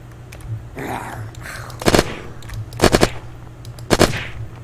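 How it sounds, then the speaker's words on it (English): Bulldog gun in the video game Unturned firing three quick bursts of several rapid shots each, loud and close, with a steady low hum and faint background noise between bursts. "I switched out my gun, which used to be a calling card, with a bulldog, mostly just because this thing shot faster."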